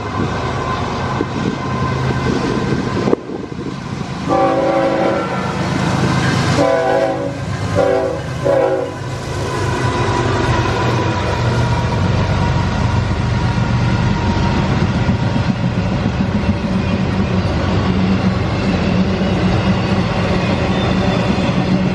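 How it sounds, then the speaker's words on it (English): A CSX Q008 intermodal freight train carrying UPS traffic passes close by, loud and steady, with a few short, sharp horn blasts early on, then the continuous rumble and clatter of the cars rolling past. "the first train we'll be seeing would be CSX Q008, UPS and intermodal traffic"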